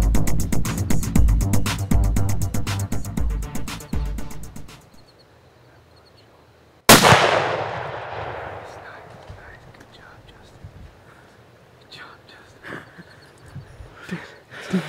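A single loud, close rifle shot fired at a whitetail buck on a Kansas hunt, a sharp crack with a long decaying echo, following a stretch of rhythmic rumbling noise, with faint voices afterward.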